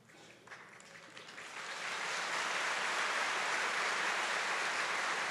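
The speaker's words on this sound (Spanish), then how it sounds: "Ese es un aplauso de la comunidad a sus futuros pastores" Applause from a church congregation at the installation of a bishop, swelling over about two seconds into sustained, dense clapping that fills the space, with no talk over it.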